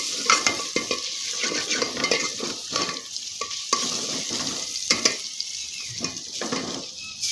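Whole spices sizzling and frying in oil in a pan for a vegetable curry, stirred with a utensil that scrapes and clinks against the metal, a steady close hiss with rhythmic stirring strokes and no talking.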